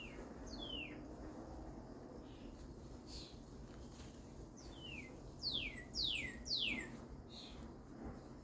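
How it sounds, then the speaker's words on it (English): Cardinals singing outdoors: a few sweeping whistled notes early, then a quick run of repeated downward-slurred whistles, fairly faint over soft background noise. "it's always nice listening to the cardinals and the birds as I'm working"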